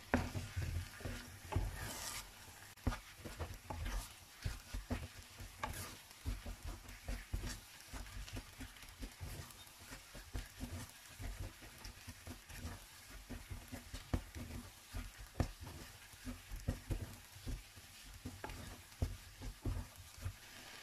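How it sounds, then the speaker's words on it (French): Choux-style dough for an Easter cake is stirred and dried in a pan over high heat, giving steady scraping and stirring strokes with a soft sizzle, close and continuous with no talking. "Après, vous allez venir la sécher 2 petites minutes à feu vif."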